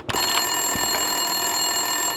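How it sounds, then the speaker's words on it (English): An office desk telephone in Max Payne 2 rings with a bright electronic trill, one continuous ring filling the short clip, close and fairly loud, with no talk. "Winterson's phone was ringing."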